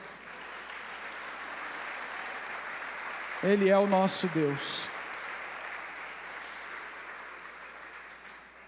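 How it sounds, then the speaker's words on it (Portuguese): Church congregation applauding during a Portuguese-language sermon, a steady broad wash of clapping throughout, with a voice speaking briefly over it midway. "Você pode aplaudir Jesus?"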